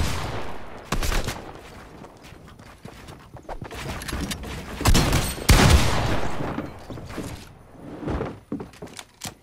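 Gunfire and clattering thuds rise and fall in a video game custom scrim, with bursts of shots coming at irregular intervals.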